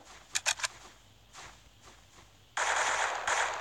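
Gunfire in the mobile battle royale game LastBattleGround: Survival: a fast triple burst of shots early, a couple of softer pops, then a loud sustained rush of noise near the end, with no talking.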